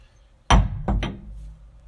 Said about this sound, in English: got the old 6-pound sledge, piece of cold roll. It's a good punch.